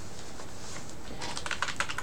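Rapid keystrokes on a computer keyboard that keeps missing keys, an irregular run of soft clicks that grows denser and sharper toward the end, close and alone with no voices.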